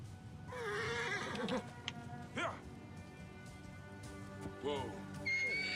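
A horse in Assassin's Creed Origins gives a couple of close, loud whinnies over rain and ambient game sounds, with occasional hoof clops.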